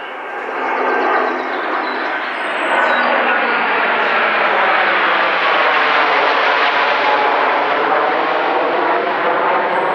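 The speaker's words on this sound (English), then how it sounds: "Sorry for the plane noise" A propeller or jet airplane drones overhead through the whole stretch at a campsite with a Dutch army pup tent, a loud, steady broadband roar that swells slightly and holds without a break.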